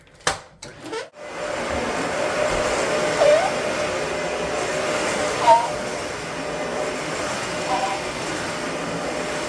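A vacuum cleaner drones steadily and close by after a few bumps at the start, its motor whine holding constant throughout.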